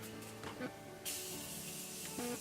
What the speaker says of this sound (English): I'm gonna go ahead and spray it down with my Morphe Continuous Setting Mist.